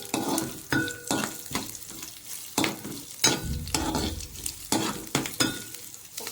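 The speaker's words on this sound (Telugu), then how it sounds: "కొన్నిటిని బాగా మిక్స్ చేసుకోవాలి కొంచెం బ్రౌన్ కలర్ వచ్చే వరకు మిక్స్ చేసుకుంటే సరిపోతుంది" Coriander chutney ingredients, including garlic, stirred and roasted in a pan until brown: a steady close sizzle broken by repeated scraping strokes of a spoon against the pan, with occasional clinks of the pan and utensil, no talking.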